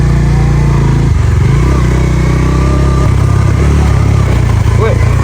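A motorcycle labors along a rough off-road village track, its engine droning loud and close with uneven throttle surges and bumping rattles throughout.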